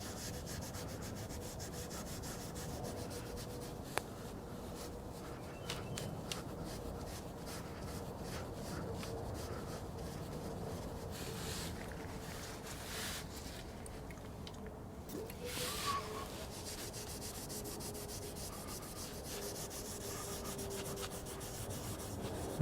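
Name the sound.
scrubbing wax coating off a GM truck frame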